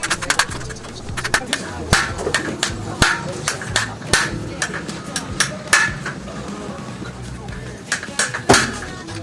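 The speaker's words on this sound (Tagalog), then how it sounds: "gamit tayo ng concrete nail. At pupupukin natin yung pinakang kanya rivets para matanggal." Sharp metal hammer strikes on a concrete nail, knocking out four jammed rivets from a stuck coconut grater machine; irregular loud clanks, some in quick bursts and others spaced apart, close by.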